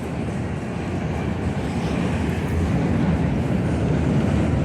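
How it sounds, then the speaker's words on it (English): A Chicago L Red Line train, headed toward 95th/Dan Ryan near Wrigley Field, rumbles past as a steady, loud low roar that holds and swells slightly across the whole stretch, with no voices. "I'll let the L train go by. That's the red line headed to 95th and Dan Ryan."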